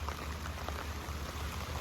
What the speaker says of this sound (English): But it's raining. So this is a blessing.